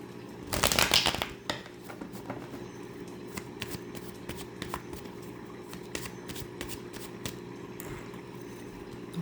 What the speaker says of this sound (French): je vais prendre le temps de tirer 9 cartes